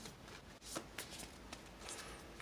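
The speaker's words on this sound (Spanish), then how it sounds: "barajar las cartas, mezclar las cartas, se barajan, se barajan, se barajan" A deck of seal-themed playing cards is shuffled by hand, a soft papery riffle and flutter repeating in quick bursts, faint and close with no talk.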